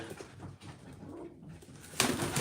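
Pigeons cooing softly and nearby in a loft, with young birds present, low murmuring calls ending in a brief louder burst like a flutter of wings.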